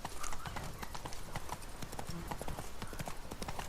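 Roach, a horse in The Witcher 3: Blood & Wine, galloping with steady, rapid clip-clop hoofbeats close up over continuous game ambience, with a brief whinny-like tone and faint speech in the mix.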